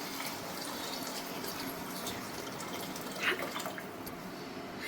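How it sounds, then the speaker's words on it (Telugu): Water runs steadily into a pot of vegetable biryani, a continuous splashing wash with a slightly louder gush near the end, no talking. "సో ఇప్పుడు వాటర్ వేసేసుకుందాం."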